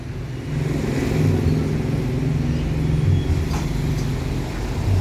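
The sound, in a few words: Harapan Jaya double decker bus reversing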